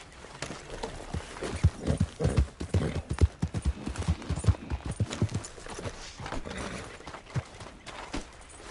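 Rhythmic clip-clop of horse hooves at a walking pace in the video game Red Dead Redemption 2, close and distinct, continuing steadily without speech.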